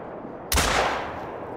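A single loud shotgun blast fires at grouse in the hunting game theHunter Call of the Wild, with a sharp crack followed by a long rolling echo that fades slowly.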